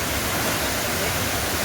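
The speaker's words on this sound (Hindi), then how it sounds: "ये झरना है, इतना सुंदर नज़ारा है" A waterfall in Mirzapur district, India, gives a loud, unbroken close roar of falling water, steady throughout with no talk.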